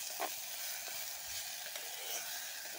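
Wild asvale flower bhaji sizzles steadily in a pan as it is stirred, giving a constant hiss and crackle with occasional soft scraping strokes, close and moderately quiet.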